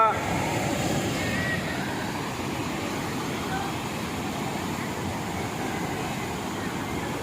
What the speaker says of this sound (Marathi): नर्मदा नदीवरील हे धुवाधार धबधबे आपण बघत आहोत एवढ्या स्पीडनं पाणी खाली कोसळते